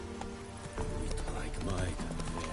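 Hooves clatter in a quick galloping rhythm from a horse in The Witcher 3, set against steady game music and ambience, with a voice speaking over it.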